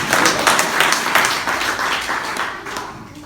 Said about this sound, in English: I want to hear you clapping your hands, please.